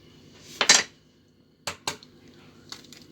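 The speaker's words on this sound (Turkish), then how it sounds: "Ve içine birer birer yumurtamızı kırıyoruz" Eggs cracked one by one into wells pressed into cooked spinach in a pan: three separate sharp taps and clinks of shell against the rim, close and fairly quiet, spread over a few seconds with no talking.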